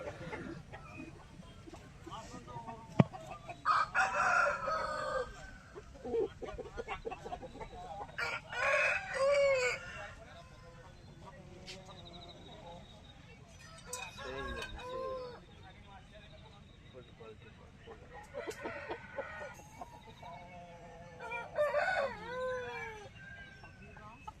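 Chickens and roosters at the Feko village market poultry stalls under a tarpaulin by trees, with repeated clucking and several crowing calls rising at intervals, while a person talks nearby throughout.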